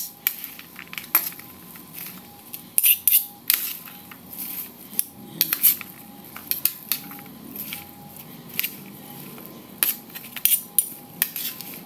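Utensils clink and scrape in a bowl while salad with cheese, raisins and mayonnaise is mixed, giving irregular close metallic taps and rustling at a steady working pace.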